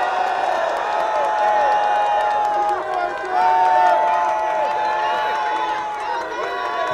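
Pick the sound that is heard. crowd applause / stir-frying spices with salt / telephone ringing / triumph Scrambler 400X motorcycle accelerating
crowd applause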